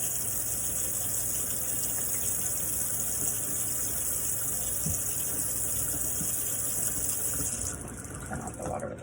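A tap runs steadily for several seconds while hands are washed at a sink, a close, even hiss of flowing water that eases slightly near the end, with no one speaking.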